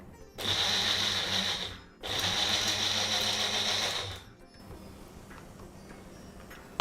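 A mixer grinder grinding spices whirs loudly in two short bursts with a brief pause between, then stops, leaving quiet room tone.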